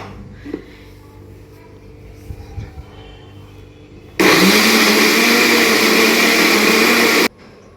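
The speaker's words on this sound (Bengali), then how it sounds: "এখানে আদা রসুন পেঁয়াজ সব কিছু আছে একসাথে ব্লেন্ড করে নেবো" A kitchen blender grinds ginger, garlic and onion together, starting abruptly with a loud, steady whirring roar that runs for about three seconds and then cuts off, following quiet kitchen sounds.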